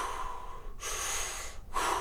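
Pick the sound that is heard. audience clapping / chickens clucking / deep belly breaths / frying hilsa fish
deep belly breaths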